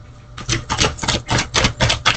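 Thick, stiff tarot cards are shuffled in quick rhythmic bursts, about eight sharp riffling clatters in a row, close and crisp with no talking.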